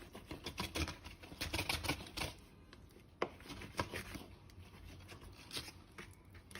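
Knife cutting food sideways into taco-sized pieces for Baja tacos, a quiet run of irregular close taps and chops on a board, alone with no voices.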